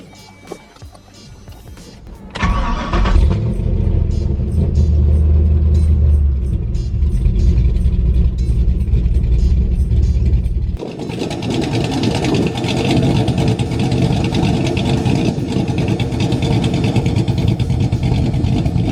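A V8 engine in a Chevrolet Colorado pickup cranks and fires up, then settles into a loud, steady low rumble with wind noise buffeting the microphone.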